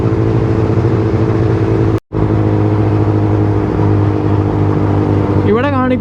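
Vehicle engine droning steadily while driving on the NH-66 highway at night, a loud constant hum with a brief dropout and a faint whistling tone near the end.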